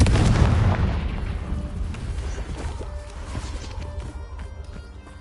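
A Confringo blast spell in Hogwarts Legacy goes off with a loud, deep boom at the start, then a rumbling roar that slowly fades over several seconds, with scattered crackles through the decay.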